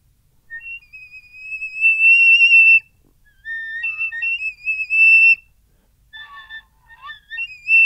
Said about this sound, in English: the whistle tone of A should be